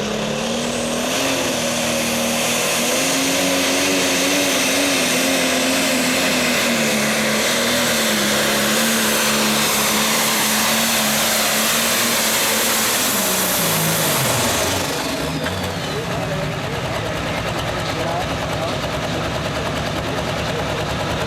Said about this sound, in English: Ed Eilenfeld twisting the hammer hard on his nameless John Deere.